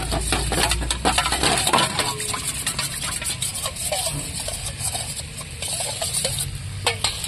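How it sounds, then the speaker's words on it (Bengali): Cornflour powder stirred with water in a bowl: a spoon clinks and scrapes in fast, irregular taps against the bowl, close and fairly loud, with a soft wet swish underneath. "এইবার আমি জল দিয়ে এটাকে গুলে নিচ্ছি।"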